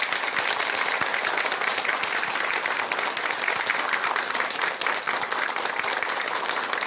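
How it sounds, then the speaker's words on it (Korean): An audience at a Buddhist dharma talk gives sustained, dense applause for about seven seconds, a full, even roar of many clapping hands with no voices over it. "전국의 훌륭하신 대덕 큰 스님들께 큰 박수 한번 주시기 바랍니다."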